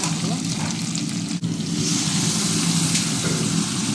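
Onions sizzling in a hot pan, a loud continuous frying hiss with a low rumbling undertone and a brief dip where the pan is stirred or moved.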